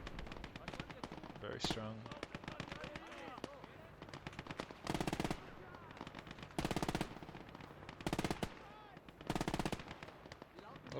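Bursts of MG42 machine-gun fire in the WWII game Gates of Hell come in several loud, sustained strings, with a single sharp shot and other battle noise between them while someone talks over the action.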